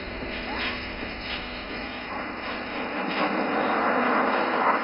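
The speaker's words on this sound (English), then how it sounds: "you will see 4 aircraft, one behind another, rolling gloriously in the sky" Four jet aircraft flying one behind another in a rolling display at the Aero India 2025 air show, a continuous distant engine roar that builds gradually louder, with faint voices beneath.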